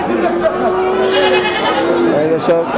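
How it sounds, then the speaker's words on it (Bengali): Goats bleat loudly and close by at a large wholesale goat market in Bangladesh, with several drawn-out, wavering calls overlapping amid a busy crowd of voices. "আরেকটা ছাগল আরও দুটা ছাগল আছে খুব সুন্দর ছাগল দেখা যাচ্ছে"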